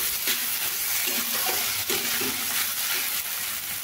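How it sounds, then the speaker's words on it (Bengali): Mashed soybean paste is mixed in a pan for soya cutlets, a continuous soft sizzle with repeated spatula scrapes and taps, close and with no talk. "সয়াবিন দেবার পরে এইভাবে ভালো করে আমি মিশিয়ে নিই।"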